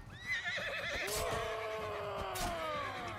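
A horse in Mount & Blade II: Bannerlord gives a loud, close whinny, a long rising-and-falling neigh that fills the moment, with faint hoof clatter beneath.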